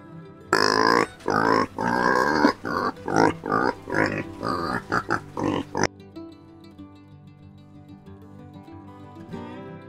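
A quick run of loud, close pig grunts and snorts for several seconds, then soft background music carries on alone.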